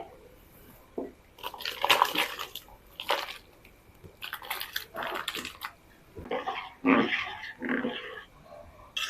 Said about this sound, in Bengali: ভাতটা ফুটতে শুরু করেছে একটুখানি সিদ্ধ হয়ে গেছে এবার আমি সবজিগুলো দিয়ে দিচ্ছি